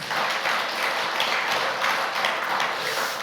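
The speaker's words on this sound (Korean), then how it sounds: "하나님께 영광의 박수 한번 올려드리도록 하겠습니다." A church congregation gives a round of applause, a continuous, full-bodied patter of many hands clapping at an even level throughout.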